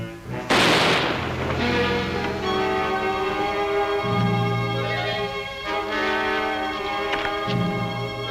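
A single sharp gunshot bursts out in an old radio drama, loud and close, then rings into a sustained dramatic orchestral chord with swelling strings and brass.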